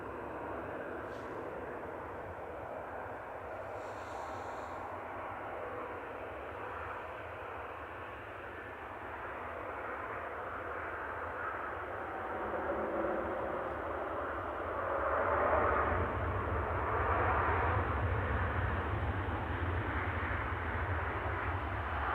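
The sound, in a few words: Ethiopian Airbus A350-900 arriving at Manchester Airport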